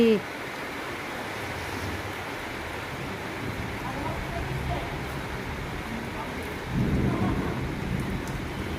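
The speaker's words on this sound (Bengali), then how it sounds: "এতদিন পরে বৃষ্টি, বাপরে।" An evening thunderstorm in Kolkata brings heavy rain that pours steadily on surfaces. Deep rumbles of thunder roll underneath, and the downpour swells louder near the end.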